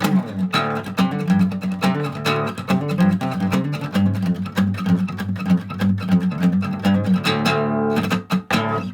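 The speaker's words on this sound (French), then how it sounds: "J'ai besoin de jouer un petit peu de guitare" Guitar played alone and fairly loud, a steady run of plucked notes and chords with a sustained low drone, continuous for several seconds before trailing off.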